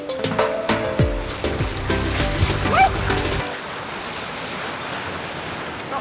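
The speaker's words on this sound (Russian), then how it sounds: "Ну вот такой вот дикий пляж." Surf breaking on a wild, rocky beach in Galicia, a steady rush of water and wind that continues alone after some early clattering and a dog's bark fade out.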